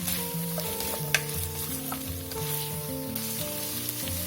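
Diced capsicum being stirred into keema frying in a pan, a steady sizzle running throughout with soft scraping from the stirring and one sharp clink partway through, close and with no voices.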